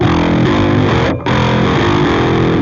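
Thick, heavily distorted bass guitar through the Audio Assault Bass TR amp plugin's Modern Dirt preset, for a metal track, plays a sustained gritty line, loud and continuous, with one very brief gap midway.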